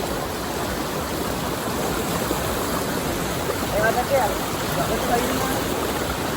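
Water rushes over the Hettipola anicut weir near Hasalaka in Sri Lanka, a steady, loud, close roar that fills the whole stretch while people talk over it.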